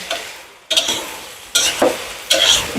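Rice with chilli, raisins, peas and cubed carrot being stir-fried in a pan for pulao: three loud bursts of spatula scraping and stirring, separated by short pauses, over a light sizzle.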